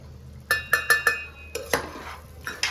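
A utensil stirs ground garam masala into mutton and potato pulao in a cooking pot, giving a quick run of sharp metallic clinks and scrapes, then a few looser knocks, close and fairly quiet.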